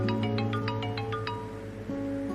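A mobile phone rings at a steady volume, a quick run of short bright electronic beeps over a sustained tonal hum, with no one talking.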